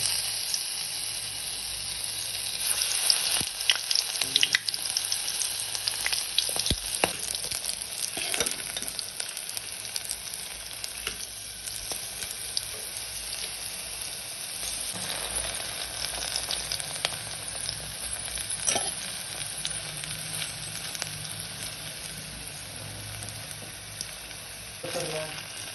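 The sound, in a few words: okra (bhindi) frying in oil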